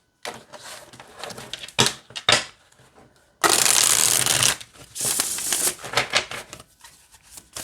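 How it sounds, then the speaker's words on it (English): Tarot cards shuffled close by: a few soft taps and slides, then a long crisp riffle followed by more shuffling bursts. "I'll do one more shuffle."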